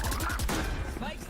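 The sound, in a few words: gunfire in the video game Valorant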